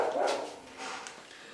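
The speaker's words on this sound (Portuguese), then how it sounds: "Eita, esse cachorro chato da luta." A dog barks a couple of short, faint woofs in the background of an indoor room, distant and fairly soft.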